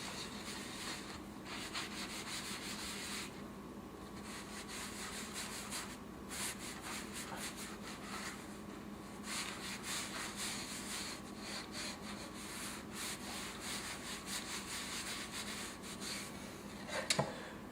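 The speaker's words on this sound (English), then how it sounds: "And so now we're just going to scrub it off." A wooden cutting board sprinkled with lemon essential oil is scrubbed by hand, a steady close rasping rub that continues for nearly eighteen seconds with small pauses and no speech.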